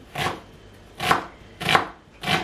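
Onions chopped on a board during family meal prep: four crisp, evenly spaced knife strokes, each a sharp thunk against a quiet background, no voices.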